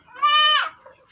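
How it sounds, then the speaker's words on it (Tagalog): A single close, loud bleat from a pet goat penned in a backyard enclosure early in the morning, lasting under a second and followed by quiet. "Ito naman yung ating mga alagang kambing."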